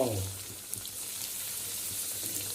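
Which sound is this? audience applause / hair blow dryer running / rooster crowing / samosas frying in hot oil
samosas frying in hot oil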